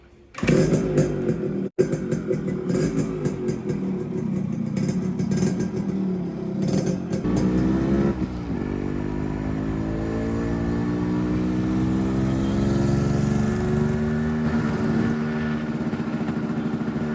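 A Yamaha RX100 motorcycle kicks to life with sharp clattering bursts, then settles into a steady two-stroke drone that rises and holds as it rides off, loud and close, with no talk.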